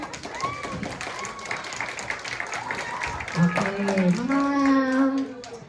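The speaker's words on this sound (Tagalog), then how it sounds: "Palakpak lang ulit. Palakpak lang, ha?" A group of people claps in a scattered patter at a child's first birthday party while children's voices and chatter rise over it, the clapping fairly light and continuous.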